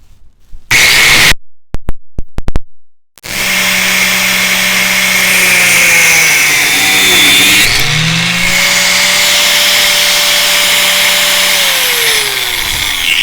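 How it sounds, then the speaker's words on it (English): A couple of brief clattering bumps, then a power tool whines loudly and steadily, its pitch dipping once as it bites into an aluminium piece for a Super Soco TC Wanderer rear disc brake install, running about ten seconds. "we'll just cut the aluminium piece"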